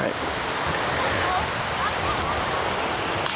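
Gale-force wind at a disc golf park, a loud, constant roaring rush buffeting the microphone throughout, close and unbroken.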